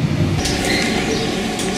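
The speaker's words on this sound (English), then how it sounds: "This is my next train." Train noise at Villach station in Austria, a steady broadband rumble with faint high chirps or squeals on top, loud and continuous throughout with no talking.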